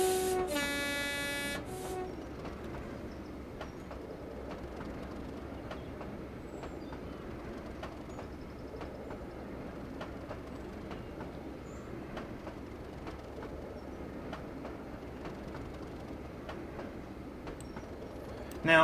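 A train runs along the Ducken Railway in the Trainz simulator, a short horn toot at the start giving way to a steady low rolling rumble with faint rhythmic clicks of wheels on track.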